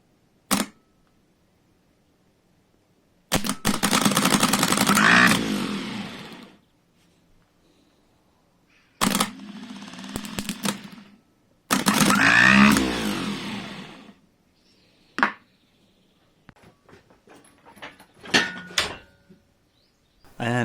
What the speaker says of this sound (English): Then I tested the starter.